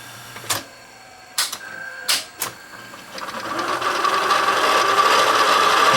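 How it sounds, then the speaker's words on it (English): Sony U-matic SP broadcast VTR (VO-9800) rewinding, with tape hub noise: a few sharp mechanical clicks early on, then a steadily rising whirring hiss as the reels spin up, close and moderately loud, no talk. "That would be the tape making that noise, I'm sure."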